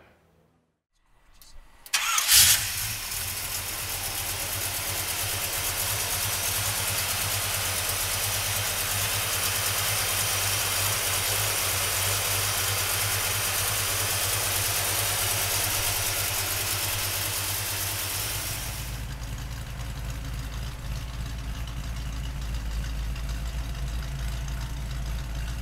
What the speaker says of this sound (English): So come on up and let's fire it up.